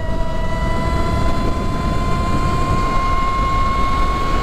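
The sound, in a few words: electric dirt bike riding at full throttle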